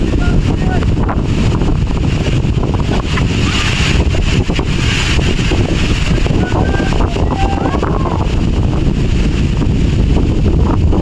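Strong, gusting wind just before a storm roars steadily outdoors, buffeting the microphone throughout at a loud, constant level with no pauses.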